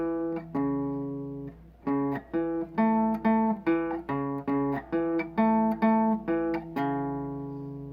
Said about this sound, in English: that's the sound of a first inversion arpeggio